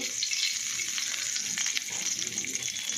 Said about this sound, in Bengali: মাছের তেলে ওই কালো জিরেটা দিয়ে দেবো